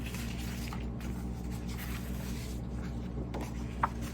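Scissors or a blade cut through a foam sheet for giant rose petals, giving soft scraping and rubbing strokes close up over a steady low background hum, no talk.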